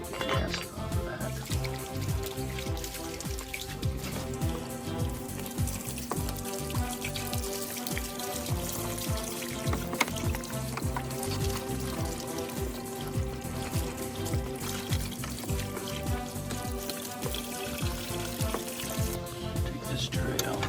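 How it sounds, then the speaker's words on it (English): Water splashes and patters steadily over the top of an old car battery as it is rinsed off, a continuous close spray with small irregular drips. "we're gonna rinse the top of the battery off, the old one"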